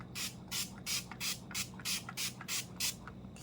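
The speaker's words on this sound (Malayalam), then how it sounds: "അപ്പോൾ അത് തന്നെ ടോണർ അപ്ലൈ ചെയ്ത് കൊടുക്കാം" Rapid, regular bursts of facial toner misted from a spray bottle before makeup, about ten short airy hisses in quick succession, close and fairly soft with no talking.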